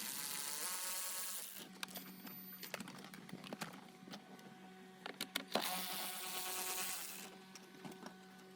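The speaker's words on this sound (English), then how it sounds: "Unscrew the two 10mm bolts located at the bottom of the radio." Two 10mm bolts being unscrewed from under the radio of a Lexus GS, likely with a small power driver: a close, high-pitched whirring with brief bursts and clicks, fairly faint in a quiet car interior.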